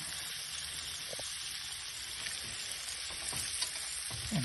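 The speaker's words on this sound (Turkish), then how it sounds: "Makarna suyumuz kaynadı. Hemen makarnamızı ilave ediyoruz. Hemen bir karıştırıyoruz." Pasta stirred into a pot of boiling water, with a steady bubbling hiss, occasional scraping stirs, and faint clinks against the pot, close and continuous without speech.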